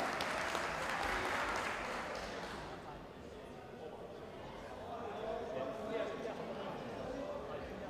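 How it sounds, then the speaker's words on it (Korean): Audience at an India versus Iran kabaddi match claps loudly at first, the applause thinning after a few seconds into a softer continuing crowd murmur, with an announcer's voice over it. "두 팀에게 여러분들 뜨거운 박수를 부탁드리겠습니다"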